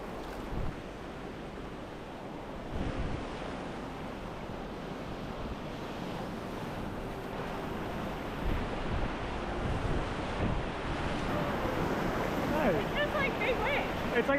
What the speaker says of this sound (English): It turned out to be pretty easy whitewater.